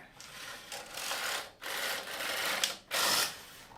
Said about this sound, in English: the first pass of the Intarsia carriage should bring all the needles out